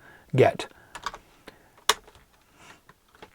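Commands typed on a computer keyboard during a Linux software build on a Raspberry Pi: a short flurry of close clicking keystrokes, then scattered single taps with pauses, quiet and alone.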